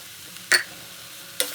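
Semolina, sugar and grated coconut being stirred in a pan for rava modak, two short scraping strokes with a faint sizzle, close and quiet with no voices.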